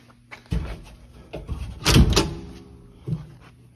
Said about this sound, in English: The door opens, push it down.